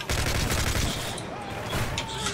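Scar L rifle fire in the video game Call of Duty MW3, a dense, loud fusillade of rapid shots that continues almost unbroken and eases slightly near the middle, with speech faint beneath it.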